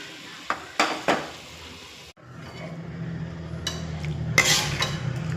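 A pot of homemade salai meen kulambu, a tamarind-based fish curry, sizzles and bubbles on the stove as homemade chilli powder is tipped in. There are a few sharp clinks of a utensil, then a steady, fairly loud simmering hiss with no talk.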